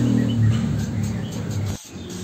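Oriental magpie-robin chicks give a steady stream of thin, high chirps, close and moderately loud over a low background hum, with a brief drop near the end.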